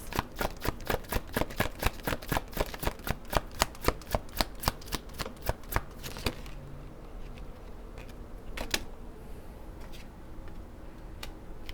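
Tarot cards being shuffled, a quick run of crisp riffling clicks for about six seconds, then a few sparse soft card sounds as cards are drawn, close and clear.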